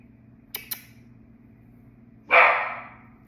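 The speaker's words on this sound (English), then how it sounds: "Please don't bark anymore." Pet dog Rosie barking indoors: two quick faint yips early on, then one loud, close bark after a pause.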